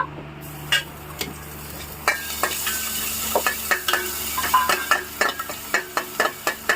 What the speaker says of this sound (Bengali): এর মধ্যেই আদা দিয়ে দেবো